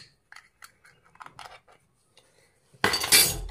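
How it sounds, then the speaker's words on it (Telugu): A tiny steel spice box is handled, with a few light metallic clicks and taps, then a brief, louder scraping clatter of steel pieces near the end. "ఈ పోపు డబ్బా అన్నమాట"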